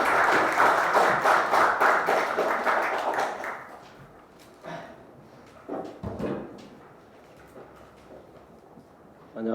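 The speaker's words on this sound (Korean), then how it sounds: "박수로 맞아주시기 바랍니다" Audience applause at a political forum in Korea, welcoming the host organization's leader to give opening remarks; a burst of clapping for about four seconds that fades, followed by scattered faint knocks and shuffling.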